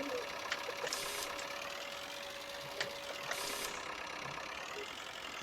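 A Fordson tractor engine idles steadily on a farm in 1961, giving a continuous low mechanical rumble with faint ticking and occasional light knocks.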